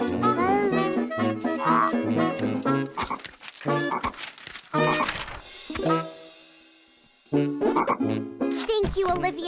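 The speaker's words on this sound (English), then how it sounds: "Francine, it's just a frog." Croaking frog in the Olivia the Pig kids' cartoon set in the Old West, a string of loud, close, rhythmic croaks mixed with cartoon music and jingling effects, with a pause near the end before the croaks resume.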